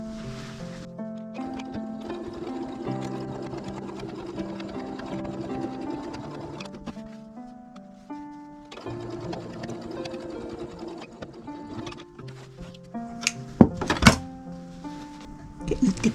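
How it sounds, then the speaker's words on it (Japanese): Sewing machine stitching a fabric tuck on a tote bag, a busy whirring mechanical run that pauses briefly and starts again, ending with a few sharp clicks and knocks; a voice is faintly present. "こちらも同じように縫っていきます。"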